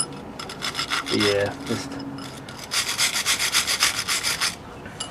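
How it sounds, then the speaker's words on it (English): Wire brush scrubbing rusty bolt threads on a 1997 Ford Contour fender mount, loud rhythmic back-and-forth scratching strokes in two bursts, with a brief spoken word between them. "use a wire brush on the threads"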